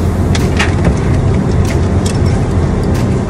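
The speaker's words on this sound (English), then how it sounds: "I'm driving back home now." A car drives on a cold day with the heater running, giving a loud, steady interior road and engine rumble that stays constant throughout, with no voices.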